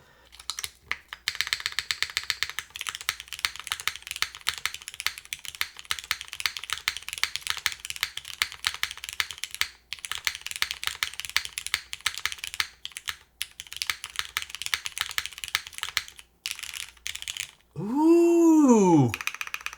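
Fast, continuous clacking of keys on a top-mount Supernova 60 mechanical keyboard with a stiff typing feel, close up, with brief gaps and a short whooshing sweep near the end.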